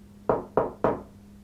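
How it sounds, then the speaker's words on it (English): Three firm knocks on a door or wall inside a supposedly haunted house, evenly spaced and close by, with a quiet pause afterward. "I'm gonna knock."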